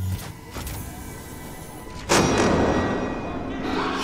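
Gunfire in the survival horror game Alien: Isolation: a couple of faint thumps early, then a sudden heavy blast that leaves a loud, rumbling wash of noise sustaining to the end.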